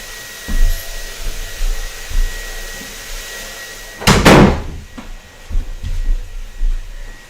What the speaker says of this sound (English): Let me shut that door.